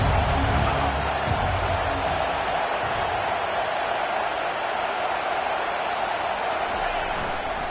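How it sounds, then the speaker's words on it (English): A football stadium crowd roaring loudly during a UT vs Penn game, a dense unbroken wash of cheering that holds steady throughout, with a commentator talking over it. "Listen to this crowd just shaking the girders of this place"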